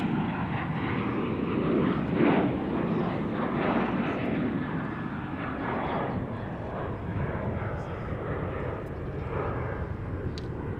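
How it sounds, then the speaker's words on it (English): A narrow-body airliner roars overhead at Charlotte Douglas International Airport, a loud, broad, continuous engine rumble that swells and slowly fades across the whole stretch. "This is a narrow body aircraft."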